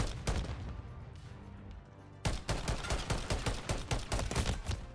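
Marksman rifle gunfire in a Call of Duty match: a couple of sharp shots, a brief lull, then a rapid string of loud, evenly spaced reports, with no talking.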